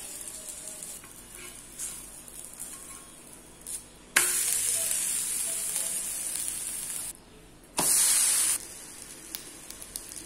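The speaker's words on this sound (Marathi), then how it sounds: "तवा छान तापलेला आहे त्यामुळे लवकर शिजतो" Brinjal thalipeeth flatbread sizzles steadily on a hot griddle, with two sudden louder hissing surges partway through that settle back into a constant crackle.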